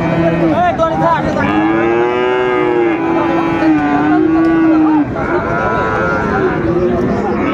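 An 11-month-old Friesian bull calf moos loudly and at length nearby at a cattle market, a long drawn-out low call, followed by a shorter second moo.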